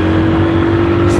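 Honda Win 100cc motorcycle engine revving steadily with a strong, constant drone, loud and close, holding one pitch for just over a second.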